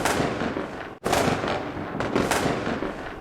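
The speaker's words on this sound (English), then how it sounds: "please stay away from fireworks and let someone else shoot them off" Fireworks bursting in a string of sharp, crackling bangs, loud and close, with a brief gap about a second in before more rapid pops and crackles follow; no one speaks.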